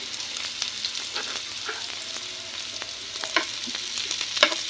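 Chili and red onions sizzle and crackle steadily in a hot frying pan, close up, with a few sharper pops and stirring scrapes over the constant hiss and no talking.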